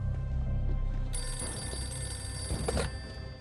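A castle telephone bell rings loudly amid a wartime battle, the shrill ringing starting partway through over a low rumble and stopping abruptly, with no voices.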